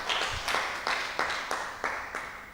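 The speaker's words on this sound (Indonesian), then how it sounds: "Tepuk tangan dulu buat Tuhan yang ajaib." A church congregation claps in unison during a sermon, a steady rhythm of sharp, moderately loud hand claps about three per second.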